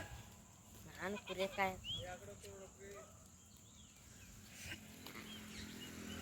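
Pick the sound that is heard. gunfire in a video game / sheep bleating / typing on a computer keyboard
sheep bleating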